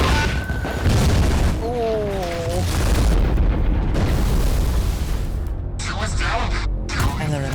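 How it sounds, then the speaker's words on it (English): LRM missile explosions in a mech animation, a series of loud rumbling booms and bursts blending into a continuous roar, with voices talking over the blasts throughout. "LRM explosion."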